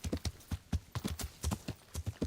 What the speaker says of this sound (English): you can easily run on the horse through the forest